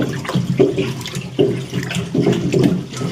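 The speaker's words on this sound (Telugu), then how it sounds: "ఈ ద్రావణం పోసిన తర్వాత కర్రతో కలపాలి" Stick stirring a homemade organic NPK liquid fertilizer solution in a container, a loud, close, continuous sloshing and churning of water that surges in rhythmic swells.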